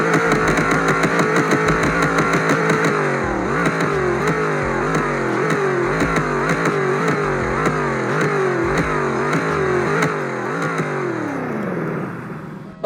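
A powerful engine revs repeatedly, pitch climbing and falling in quick bursts over a steady idle, loud and close, with no talking.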